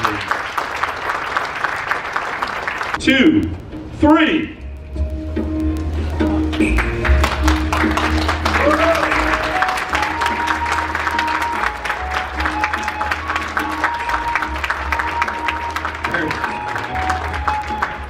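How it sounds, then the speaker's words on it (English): Applause at an SK battery plant groundbreaking ceremony in Georgia, sustained crowd clapping through most of the stretch, with a brief spoken count and voices over a PA near the start. "Give a round of applause"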